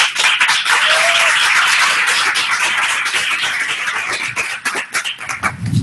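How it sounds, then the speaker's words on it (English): A round of applause from attendees at a Global Digital Library demonstration event, steady dense clapping that thins and tapers toward the end. "I wanted to give a round of applause for Christer for joining us"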